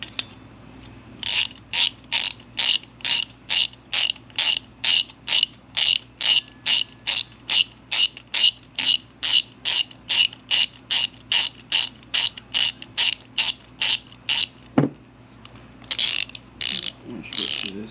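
Ratchet wrench clicking steadily as a bolt on a powder-coated valve cover of an ND Miata is tightened, a long run of even, rapid, close clicks that stop and give way to a few looser handling sounds.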